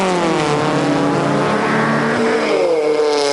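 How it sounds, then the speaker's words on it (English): A roof-chopped Volkswagen Beetle and a Volkswagen Type 25 van accelerate hard in a drag race at Bug Jam, a loud rising engine roar that climbs through the gears, close and continuous. "Paul Herbert in the roof chop bug. He's up against Mark Malone in the Type 25"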